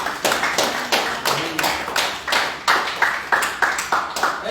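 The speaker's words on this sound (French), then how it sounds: "Est-ce qu'on peut encore acclamer pour le Seigneur?" A congregation at a church service claps in a steady run of sharp, evenly spaced beats, loud and close, with no other sound over it.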